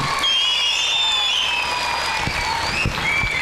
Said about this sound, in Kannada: ಸೊ ಈ ಟೀಚರ್ಸ್ಗೆ ನಾವೆಲ್ಲ ಒಂದು ಜೋರು ಚಪ್ಪಾಳೆ ಕೊಟ್ಬಿಟ್ಟು one big salute to them